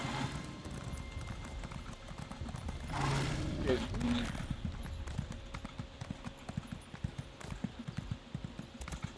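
Horse hooves clip-clop in a steady rhythm in the video game Elder Scrolls Online, moderately near, with a brief swell of noise partway through and some voices talking alongside.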